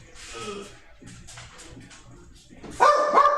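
Dogs yip and bark indoors, with a sharp, loud burst of barking near the end, while people talk in the background throughout.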